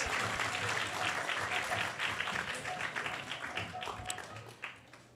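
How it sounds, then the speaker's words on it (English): Temple audience applause at an ISKCON gathering, a crowd clapping together in a dense, lively burst that gradually thins and fades toward the end, with a few scattered individual claps standing out. "So let's give them a big round of applause to all the first-timers."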